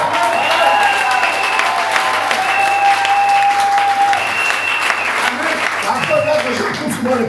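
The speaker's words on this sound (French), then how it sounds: "Acclamons le Seigneur." A church congregation claps loudly and steadily in a dense, continuous wave of applause, with voices calling out and a sustained sung or shouted tone over the top.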